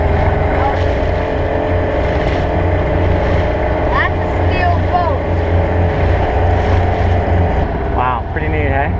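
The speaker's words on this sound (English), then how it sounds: "it's a jet engine on there with that boat." A jet-engine-powered boat passes on Caribbean water off Trinidad, a loud steady roar mixed with wind buffeting the microphone, while people talk over it.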